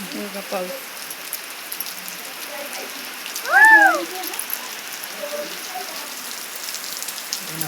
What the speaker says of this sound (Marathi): खूप मोठा पाऊस आलाय येतोय आवाज येतोय पावसाचा